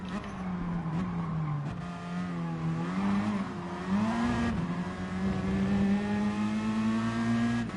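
Race car in Gran Turismo Sport accelerating steadily, its engine droning loud and close with a rising pitch across the whole stretch, with no voices over it.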